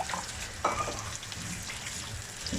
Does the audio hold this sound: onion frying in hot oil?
yes